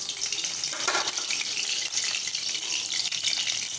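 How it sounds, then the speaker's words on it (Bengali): Oil heating in a pan before frying papad gives off a continuous bright, crackling sizzle, close and even throughout, with no talking. "তেল গরম হচ্ছে"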